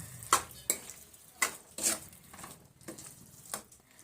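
Sliced potatoes being stirred into a potato curry in a pan, giving a handful of separate scraping and clinking strokes with a soft sizzle underneath, close and moderately loud, with no voices.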